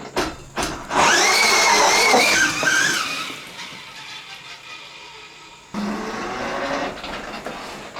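An electric three-wheeler with a six-speed gearbox pulls away in first gear, giving a loud rising whine and tire noise that fades, then a second surge of drive sound near the end.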